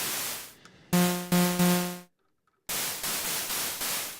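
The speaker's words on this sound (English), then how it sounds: "the white noise sound" A Behringer Model D analogue synthesiser emits bursts of white noise: a hiss that cuts in and out in short sections with a sharp stop and restart, one stretch overlaid by a low pitched tone pulsing three times.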